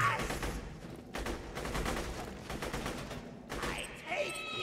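Shotgun blasts in Borderlands 2 boom in a quick, sharp burst, mixed with other gunfire and chaotic game noise, moderately loud under a busy battle.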